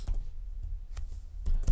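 Quick clicks of typing on a laptop keyboard with a broken key, a few soft taps followed by a denser burst at the end, close and quiet.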